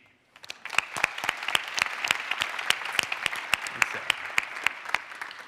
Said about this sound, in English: So let's give a quick round of applause to the team.